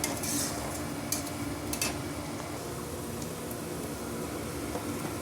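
Chicken pieces tipped into hot oil turned light golden with cumin seeds, then stirred in a pan for a chicken fry, giving a steady close sizzle with a few sharp clinks of a spoon against the metal.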